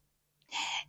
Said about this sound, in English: If y'all can hear that bird in the background,